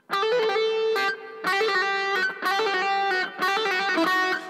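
A fast electric guitar lick with quick picked notes repeats in short phrases separated by brief gaps, played cleanly without any voices.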